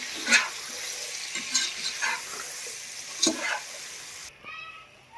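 Chopped tomatoes frying in a pan while being stirred, a soft steady hiss punctuated by a few distinct scraping strokes of a spoon, close up, fading near the end.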